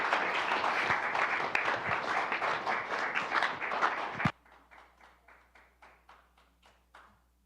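A music cafe audience applauds loudly and steadily for about four seconds, then it drops off abruptly to a few scattered, fading claps.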